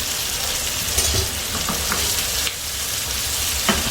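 Shrimp frying in a pan give off a constant close hiss, broken by a few faint scrapes and pops, with no one talking.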